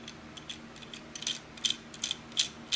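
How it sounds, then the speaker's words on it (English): Ratchet wrench with a 9/16 socket loosening a fitting on a vintage Calypso IV double-hose scuba regulator: a few quiet, irregular bursts of clicking pawl, close up, with no talking. "You're going to need a 9/16 socket to remove it."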